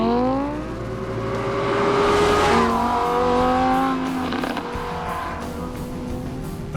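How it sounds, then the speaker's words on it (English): A Lamborghini Huracan supercar accelerates hard on a race track, its loud engine note climbing steadily through the revs, with a brief tire squeal partway through. "Lamborghini's latest creation is ready to attack the track."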